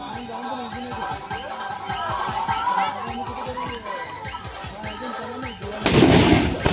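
People chat steadily at an outdoor village palanquin festival, then near the end a firecracker bursts in water, giving a single loud, sharp blast that rises well above the voices.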